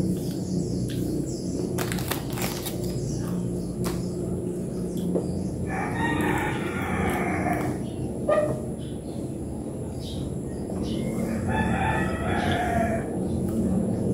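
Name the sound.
rooster crowing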